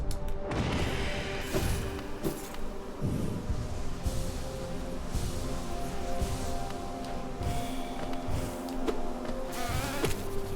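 Dense, continuous insect-like buzzing from bee enemies in the video game Hollow Knight, swarming throughout with scattered thuds and impacts from combat.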